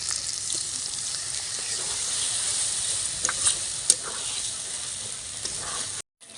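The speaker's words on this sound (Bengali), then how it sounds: "এবার ভেজে রাখা পনিরটা দিয়ে দেবো, দিয়ে একটু নাড়াচাড়া করতে হবে" Fried paneer stirred into a spinach (palak) gravy enriched with milk cream in a pan gives a steady, close sizzle with light scraping stir accents, then cuts off abruptly near the end.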